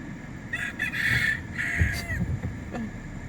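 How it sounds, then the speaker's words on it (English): Fighting roosters crowing nearby, several drawn-out harsh calls overlapping, with a low rumble of background noise underneath. "It has a bunch of fighting roosters"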